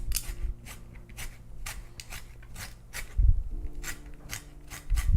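Close, quiet rasping strokes of a lemon being zested on a grater, about a dozen short scraping pulls in an uneven rhythm over a faint low hum, with no talking.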